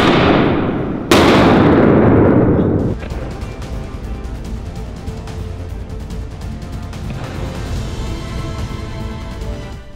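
Fireworks go off inside a nuclear bunker: a sharp, loud blast at the start, followed by a roaring, echoing rush that settles into a long reverberant hiss and crackle.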